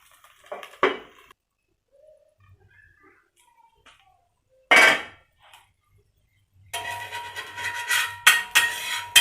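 A lid clatters onto a dosa pan cooking a soft ila dosai: one sharp metallic clink near the start, another around five seconds, then a busy run of clattering and scraping at the end. No one speaks.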